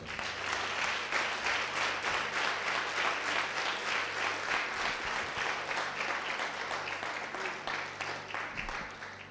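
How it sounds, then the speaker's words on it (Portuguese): A church congregation applauds in sustained, fairly even clapping that keeps a loose rhythm throughout, moderately loud, with faint voices underneath. "Vamos aplaudir ao Senhor?"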